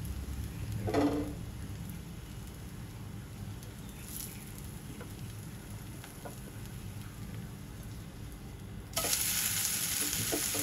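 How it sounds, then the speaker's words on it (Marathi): Mixed dal dosa frying on a hot pan over low flame, with a steady close sizzle and crackle, a brief scraping burst near the start as it is flipped, and a louder hiss toward the end. "आता आपण डोसा उलटायला घेऊया।"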